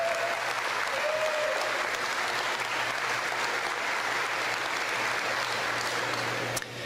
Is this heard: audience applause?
yes